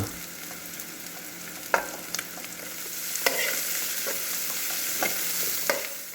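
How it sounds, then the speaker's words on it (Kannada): Cabbage stir-fried in a hot pan for egg fried rice, a constant loud sizzle with sharp clacks and scrapes of a spatula at intervals. "ಈಗ ಕ್ಯಾಬೇಜ್ ಆ್ಯಡ್ ಮಾಡ್ಕೊಳ್ಳೋಣ"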